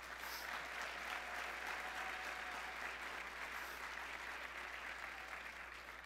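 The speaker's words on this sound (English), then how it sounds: "Please give them a round of applause." A closing brunch audience applauds five retiring executive board members, steady dense clapping sustained at an even level throughout, heard from within a large room.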